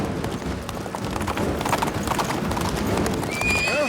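A wild horse galloping, with rapid continuous hoofbeats and repeated whinnying against a busy background, loud and close throughout.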